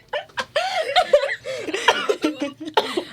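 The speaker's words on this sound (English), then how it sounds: "Oh no, the chronic cough is coming." A string of short, harsh vocal bursts, coughs mixed with laughing chuckles, close up and fairly loud, with brief pauses between.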